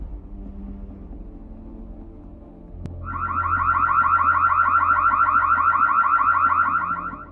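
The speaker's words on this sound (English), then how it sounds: "He activates the siren alarm on the camera." A doorbell camera's siren alarm starts abruptly over low background hum and then sounds continuously, a loud, fast-pulsing electronic wail that holds steady to the end.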